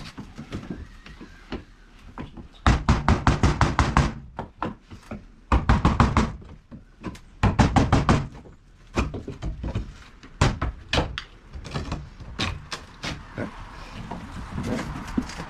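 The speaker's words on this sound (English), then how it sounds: "after you remove your interior stop with the chisel" A chisel pries and knocks against a wooden interior window stop during a replacement window installation, producing bursts of rapid, loud hammering taps and cracks separated by short pauses, close to the listener.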